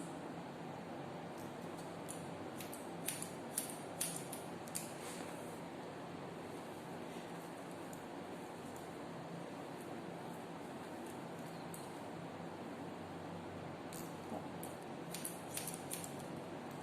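Scissors snipping hair during a haircut, faint quiet clusters of small metallic snips over a steady hiss of room noise, with long pauses between bursts.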